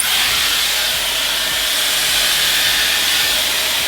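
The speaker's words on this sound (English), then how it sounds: "I'm going to start blowing out my hair" A Dyson hair dryer blowing out curly hair gives a steady, loud, even rush of airflow with a constant hiss and no breaks.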